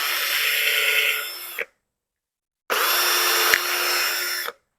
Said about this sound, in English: We're just going to take the drill and drill 2 holes.